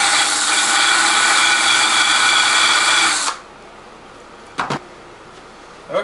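A power tool whines loudly and steadily while deburring holes in wood chipper parts, then cuts off abruptly, leaving near-quiet broken by a couple of brief knocks.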